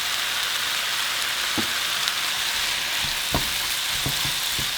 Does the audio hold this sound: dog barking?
no